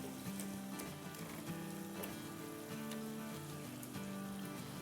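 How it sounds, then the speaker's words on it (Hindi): Softened tomato masala for chicken biryani fries in a pan with a faint, steady sizzle and light patter, quiet and continuous beneath a low background hum. "इसको भून लेते हैं।"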